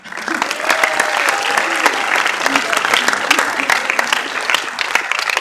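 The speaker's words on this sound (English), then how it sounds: "applause for our voting committee" Applause from a council general assembly audience for the voting committee, steady dense clapping filling the hall for several seconds, with some voices and cheering mixed in.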